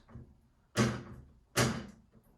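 Magnetic doors on a Creality CR5 3D printer close with two sharp thuds, each snapping shut with a brief ringing tail, about a second apart and close by.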